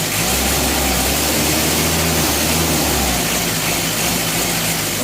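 A running Mitsubishi L300 engine, one that is hard to start when hot, stalls on inclines and smokes, holds a loud, steady, close droning rumble with no breaks.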